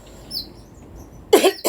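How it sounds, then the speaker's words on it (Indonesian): Two sharp coughs close together near the end, the first louder and the second shorter, after a stretch of quiet room tone with faint high chirps. "Maaf batuk."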